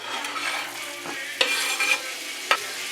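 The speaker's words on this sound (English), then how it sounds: "when your oil is hot, grab your onions and add them to the pan" Onions hit hot oil in a pan and fry with a constant bright sizzle, with a few sharp clinks of a spatula against the pan.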